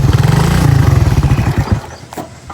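A motorcycle engine close by sputters and idles in a fast, even putter, then cuts out near the end. A brief clatter follows.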